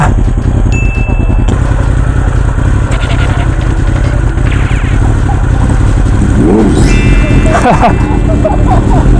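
A big-bike motorcycle runs with the ignition on and second gear selected at a track. A loud, close, rough engine note clatters and surges throughout, while people talk over it.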